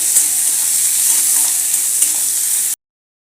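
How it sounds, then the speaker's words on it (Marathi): Finely chopped onion fries in hot oil for a spicy Maharashtrian chili-garlic thecha. A loud, steady sizzle with soft crackle runs for nearly three seconds, then cuts off abruptly. "बारीक चिरून घालायचा आहे कांदा तेलावरती परतून घ्यायचा आहे"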